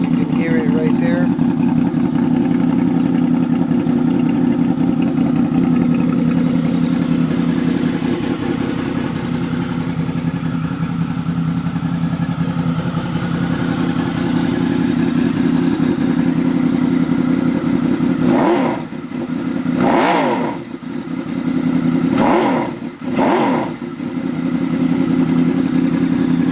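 A 2003 Honda VFR800 Interceptor V4 motorcycle idles loudly and steadily after a cold start, with a few sharp throttle blips near the end; a voice speaks briefly over it.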